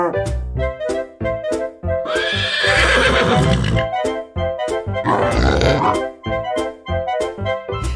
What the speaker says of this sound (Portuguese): E nesse sítio tinha um cavalo, ia, ia, ou.